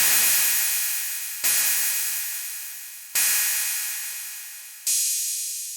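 A synthesized white-noise ride cymbal from Fruity DrumSynth Live strikes four times at an even pace, each hit a bright, hissy wash that decays slowly before the next.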